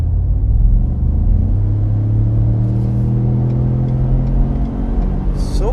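A 2015 Ford F-150 King Ranch pickup accelerates steadily, its engine a loud, continuous low rumble rising in pitch through the gears alongside road noise heard from inside the cab.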